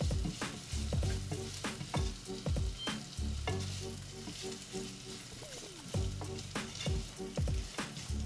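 Onions with salt sizzle steadily in a pan while being stirred, with repeated scraping and clacking strokes of a utensil over a constant frying hiss, close and moderately loud.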